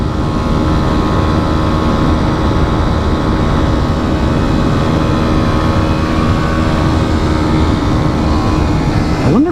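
A 2019 Kawasaki Z125 motorcycle with its small 125 cc engine is held at full throttle, giving a loud, steady, buzzing drone that holds constant throughout with wind rush mixed in.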